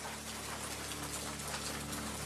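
Heavy rain falls in Madagascar during the rainy season, a dense, continuous hiss of drops that stays even and close, with nothing else heard.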